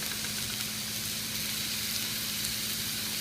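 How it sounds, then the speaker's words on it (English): Polish sausage and onions fry in a pan, a dense, even, close sizzle holding steady without pauses or voices. "now we're going to fry up the Polish sausage"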